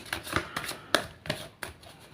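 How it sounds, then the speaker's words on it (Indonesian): Tarot cards being shuffled by hand, a run of crisp riffling flicks and soft slaps in uneven bursts, close and fairly quiet with no talking. "Langsung saja saya shuffle kartunya."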